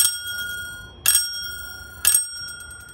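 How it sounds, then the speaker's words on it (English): A small electric bell in a classroom circuit, powered by a transformer and closed switch, gives two bright metallic rings about a second apart, each fading into a sustained shimmering tone. "so now I've got a bell here, and if I put my transformer on and I close the switch"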